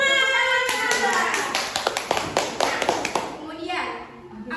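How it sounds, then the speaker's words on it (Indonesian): A classroom of students claps hands in a micro-teaching lesson, scattered claps building into a lively burst and then fading, with children's voices mixed in. "Tepuk tangan."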